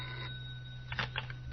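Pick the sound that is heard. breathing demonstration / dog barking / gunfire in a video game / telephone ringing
telephone ringing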